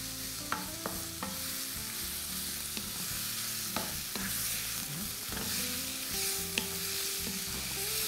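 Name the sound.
stirring minced meat with spices in a pan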